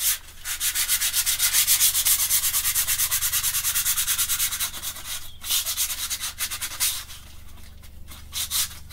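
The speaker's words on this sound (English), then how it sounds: "So I'm just about to rub this down now." Sandpaper rubs down a dolls house part before painting, making close, loud rhythmic back-and-forth scratchy strokes that are regular at first, then slower and more uneven, with no talk.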